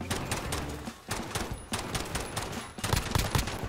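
Rapid bursts of automatic gunfire from enemy players in the zombie-infection mode of a multiplayer shooter, loud and close, with brief lulls between volleys.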